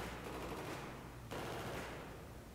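Distant, muffled gunfire in Battlefield 3 forms a steady dense rumble of shots from above, faint and continuous throughout, with no talking.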